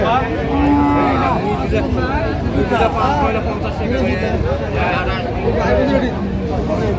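Cattle moo repeatedly amid the busy babble of a crowd at a cattle market, with voices chattering close by and cows and calves lowing over the din.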